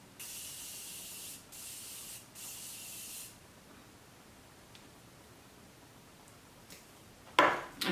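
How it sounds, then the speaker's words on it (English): Three quick hissing bursts of Morphe Continuous Mist Setting Spray onto a face, close and even, followed by quiet and a brief rustle at the end. "going in with my Morphe Continuous Mist Setting Spray"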